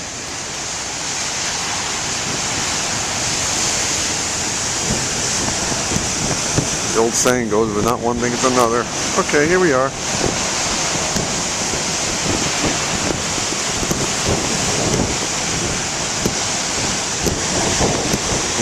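Huge ocean waves at Beavertail Lighthouse roar as a steady wash of surf and wind, with someone talking over the noise almost the whole time.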